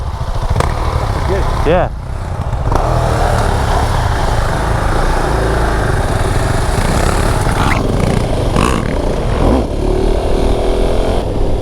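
Husqvarna Svartpilen 701 motorcycle engine droning loudly and steadily while riding, with wind rush and brief shifts in pitch, under short bits of a rider's talk.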